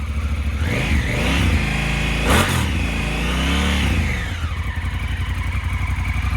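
Stock-exhaust Honda Africa Twin motorcycle engine revving up with a throaty roar, climbing and falling in pitch over several seconds before settling back to a loud, steady idle, heard close and alone.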